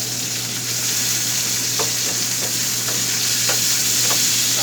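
Garlic, ginger and tomato sauté together in a pan for adobo, giving a steady, close sizzle with occasional stirring scrapes and no talking.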